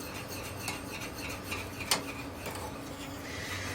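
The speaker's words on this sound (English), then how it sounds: "I'm going to whisk it, and all of this comes together pretty quickly" Chocolate gravy being whisked in a pan, soft rhythmic metallic scraping and taps of the whisk against the pan over a low background, brief, quiet and close.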